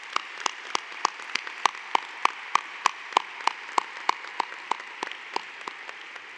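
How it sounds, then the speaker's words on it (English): Sparse, evenly spaced hand claps ring out at a high school graduation ceremony as families of graduates are applauded, each clap distinct and fairly crisp over a quiet background, steady throughout. "Students, please join me in giving your families a huge round of applause."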